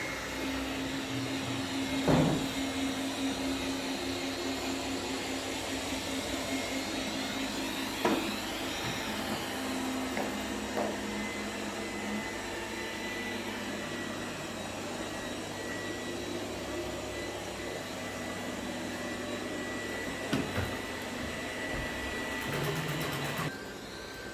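A Tesvor T8 robot vacuum cleaner runs in high suction mode with a steady, even motor whine and whoosh throughout, broken by a few faint clicks or bumps; no one speaks.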